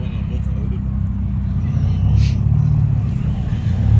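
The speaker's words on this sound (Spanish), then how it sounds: "Se ve ya bastante autos." Steady car traffic rumbles along a road in Uruguay, a continuous low engine drone with a passing swell midway, heard from inside or beside a moving vehicle with someone talking over it.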